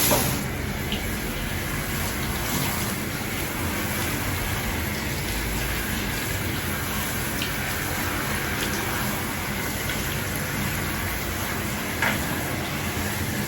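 Steady running water pours continuously at close range while washing very long dreadlocks, a dense broadband rush with no voices over it.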